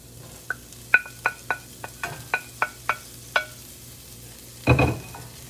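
Sausage meat and vegetables cook in a pan under a low sizzle. A utensil strikes and scrapes the pan in a series of about ten sharp metallic clinks, followed by a brief louder scrape.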